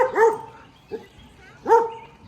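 A dog barks three times outdoors, close and fairly loud, in an uneven rhythm with short pauses between the barks and no talking over them.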